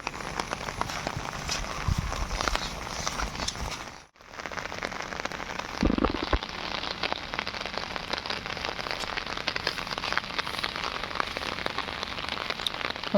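Steady, heavy rain pours continuously, a dense hiss of drops hitting surfaces, with a momentary dip partway through.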